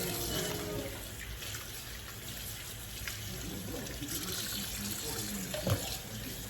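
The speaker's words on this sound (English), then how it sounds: "cleaning the meat. So what I do, I rinsed it. Okay, I'm rinsing it." Raw chicken meat rinsed under a running tap, a steady broad wash of water splashing into a sink throughout, with a few louder splashes and knocks near the end.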